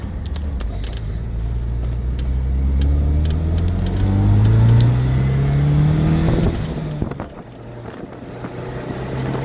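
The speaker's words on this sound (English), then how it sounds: "So the car drives really nice." A car drives steadily with its engine revving up in pitch as it accelerates through the gears, a clear shift dropping the revs before climbing again, with wind noise buffeting throughout and no talk.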